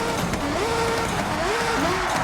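Remodeled Mazda FD RX-7 rotary engine in Forza Horizon 6, a steady loud drone with pitch rising and falling through gear changes, heard alone without talk.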